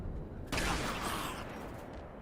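A dull, thudding weapon fire sound in a modded Halo 2 video game, a sudden heavy broadband burst that rolls into a sustained rumbling decay, loud and alone.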